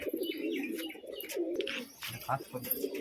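Pigeons coo steadily in a low, throaty murmur, with chirps and some voices mixed in throughout.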